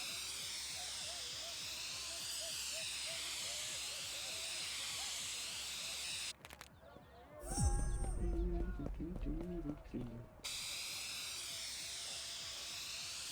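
Aerosol spray paint hissing steadily in the Drug Dealer Simulator video game as a building gets tagged, a long continuous spray broken by a short gap with a voice talking, then the hiss resuming.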